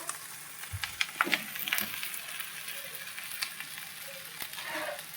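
Green chillies, both raw green and ripe red from the garden plant, hit a hot pan while cooking a vegetarian paneer posto dish, giving a soft, steady frying sizzle with a few light crackles and stirring clinks, fairly quiet and without talk.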